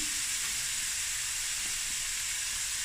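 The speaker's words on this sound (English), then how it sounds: "So we're going to just stir fry this. Onions until it's nice and golden brown." Chopped onions stir-frying in a pan for pilchard frikkadel, a steady broadband sizzle and hiss holding evenly from start to finish with no voices.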